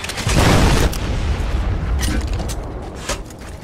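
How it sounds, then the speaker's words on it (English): A loud, close rocket blast in a first-person shooter game, a heavy boom with a dense roar that peaks early and then rumbles on under continuing game noise. "That's a rocket."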